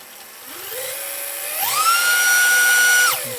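An RC car motor on a Hobbywing ESC whines through a throttle test, its pitch sliding upward in steps, holding a loud high tone near full throttle, then dropping off as the throttle returns.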